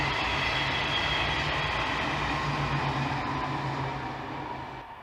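A train passing close by, a loud continuous roar of rolling wheels and rail noise with a steady low hum, gradually fading toward the end.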